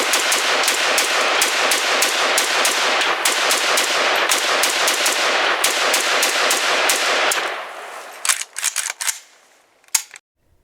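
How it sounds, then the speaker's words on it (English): A SIG SG553R pistol fires a long rapid burst of sharp, loud cracks in fast succession, then a few scattered shots and faint clatter as it trails off. "we have some old shooting footage of one as a pistol"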